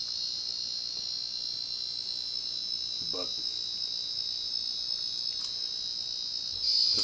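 A Casablanca Panama 50-inch ceiling fan gives off a constant high-pitched electronic chirping whine, steady throughout with brief faint bumps, and a voice speaks briefly.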